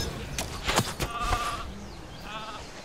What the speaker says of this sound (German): jetzt kommen hier noch die Schaf